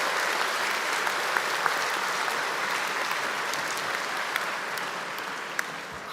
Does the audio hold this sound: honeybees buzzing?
no